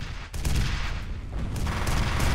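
Rockets slam into a robot in the F.E.A.R. video game: a heavy, continuous barrage of booming impacts and gunfire rumbles loudly throughout, with a brief dip early on.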